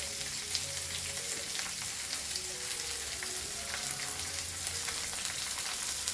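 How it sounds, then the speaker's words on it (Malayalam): Onions fry and are stirred in ghee in a home kitchen pan, a steady crackling sizzle with occasional scraping, close and continuous. "കുറച്ച് ഉള്ളിയും ഒക്കെ ഇട്ടിങ്ങനെ ഇളക്കി കുറച്ചും കൂടെ നെയ്യ് ഒഴിച്ച് കൊടുക്കാം നമുക്ക്"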